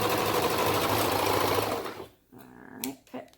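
A sewing machine stitches a seam through fabric for a high-waist garment, running in a fast, steady whir for about two seconds before stopping, followed by a few faint handling clicks.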